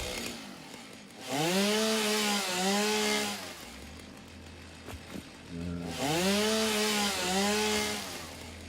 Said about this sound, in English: Let's do some clearing. With the chainsaw.